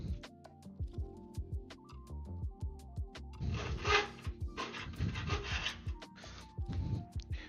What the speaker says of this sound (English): We're going to run the file underneath the skin